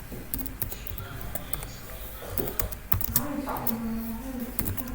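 Quick, uneven clicks come from typing on a computer keyboard, close up, with short bursts of keystrokes and brief gaps.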